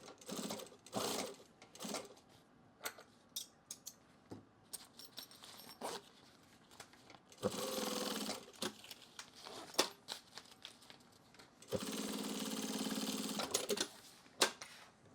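Sewing machine running in bursts, winding a bobbin while sewing a drop liner duffle bag, with several short stitching runs and two longer sustained whirring stretches, close and clear.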